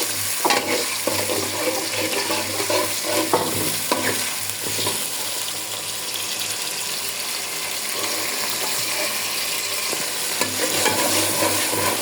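Whole spices for pulao (cinnamon, cardamom and bay leaf) fry in a pan with small onions and ginger paste, giving a continuous close sizzle with busy scraping and stirring throughout and no voices.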